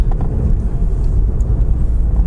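Volkswagen Golf GTI hot hatch accelerating in sport mode with gear shifts past about 3000 rpm, a steady low engine drone heard from inside the cabin, fairly loud with no talking.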